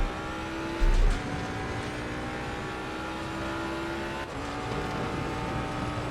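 Race car engines roar steadily as the cars accelerate hard on the throttle out of the carousel corner, a dense continuous drone with a brief thump near the start, heard from a distance.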